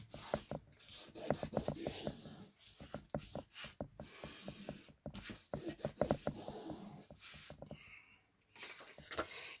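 A small rag rubs and burnishes a paper craft piece in short, rapid scraping strokes, up close and fairly quiet, with brief pauses between bursts and no talking.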